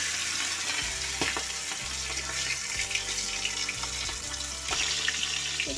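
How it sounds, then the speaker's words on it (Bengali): A fish head fries in hot oil for a Bengali pumpkin and greens chorchori, giving a continuous close sizzle with occasional stirring clatter, heard alone without talk. "তারপরে দেখুন মাছের মাথাটাকে ভেজে নিলাম"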